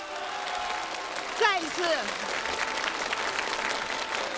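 Concert audience applauding a composer at a symphonic choral concert of her works: steady hall-wide clapping under a host's amplified voice.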